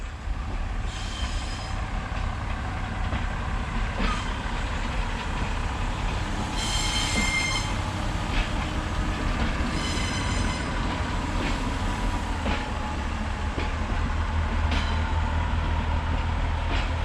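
A Pacer diesel multiple-unit rumbles steadily past on the railway line at Ironville, its engine drone continuous and loud, with periodic rail clicks and a brief high squeal or horn tone midway.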